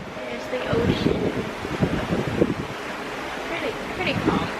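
Wind and ocean surf on the open deck of the Oceania Marina cruise ship crossing a calm South Pacific toward French Polynesia, a steady broadband rush with soft gusting under faint voices nearby.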